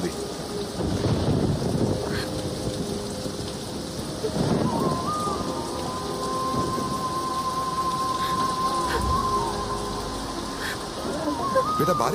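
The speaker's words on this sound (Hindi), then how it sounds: "बेटा बारिश हो रही है, बंद करो खिड़की, बंद करो।" Steady rain falls outside an open window in a film scene, with a roll of thunder; a person speaks under the continuous downpour, and a sustained tone enters midway.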